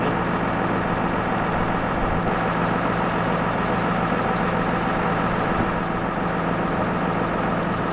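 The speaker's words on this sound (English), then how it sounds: "Grumpy Daddy started my tractor up." A small John Deere telehandler engine runs at a steady, loud diesel rumble with constant low throb and broadband clatter throughout, close by, with no voices.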